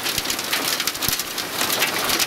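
Hail and rain fall in Poteryaevka as a steady, loud hiss with a few dull thuds of hailstones striking close by.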